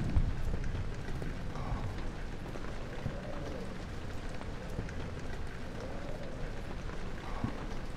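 Steady rain in the Rainy Hall level of the video game Amnesia: The Dark Descent, a dense, even hiss of falling water that stays constant throughout, with no talking.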